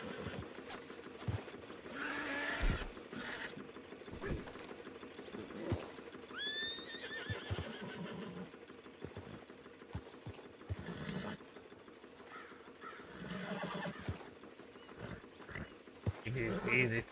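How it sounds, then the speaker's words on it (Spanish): Horse in a western roleplay video game neighs with a rising whinny, with hoof clip-clops and scattered game effects around it, while someone talks over much of the scene. "Caballo, no sé quién es, pero lo voy a espantar"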